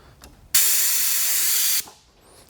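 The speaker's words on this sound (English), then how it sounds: "open this valve on the side and cover the outlet with a cup to prevent any spray from going anywhere" Chemical sprays in a loud, steady hiss for just over a second from the opened side valve outlet of a Big Bear pail and drum loading unit, then cuts off abruptly, leaving quiet.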